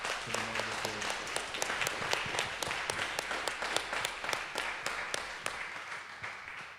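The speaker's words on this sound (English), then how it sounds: "I really do just want to give a beautiful round of applause" A room full of people clapping at a gathering, a smaller crowd with individual claps standing out in a quick regular rhythm, fairly close and sustained throughout, with a brief low murmur early on.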